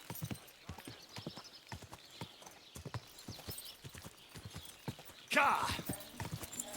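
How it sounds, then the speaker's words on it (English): Horse hooves clip-clop in a steady walking rhythm in the medieval game Kingdom Come: Deliverance II, close and moderately loud, under brief spoken lines, followed near the end by a sharp shout and a louder burst. "Watch out with that horse!"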